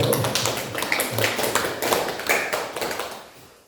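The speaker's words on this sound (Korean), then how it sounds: "박수 한번 쳐주세요." A church congregation claps for a deaconess invited to speak, a moderately loud run of individual hand claps with distinct sharp taps that thins and fades after about three seconds.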